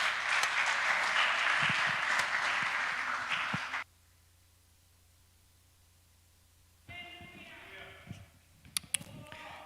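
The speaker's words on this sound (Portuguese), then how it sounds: "Vamos aplaudir ao Senhor, irmãos" A church congregation applauding during a teaching service: dense, sustained clapping for several seconds stops abruptly, followed by near silence and then some faint shuffling and a few knocks.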